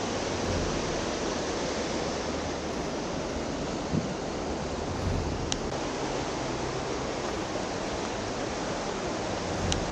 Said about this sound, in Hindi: बहाव तो बहुत तेज है इधर भी